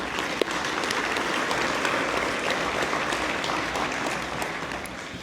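Sustained applause from an audience at an agriculture hall of fame ceremony in Quebec, a dense and steady clapping that fills the room throughout with little variation.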